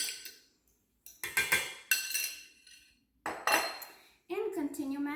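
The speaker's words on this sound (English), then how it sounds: "And continue mashing." Potato and farmer's cheese pierogi filling is mashed in a bowl in several separate bursts of clinking, scraping utensil strokes against the dish, with short pauses in between.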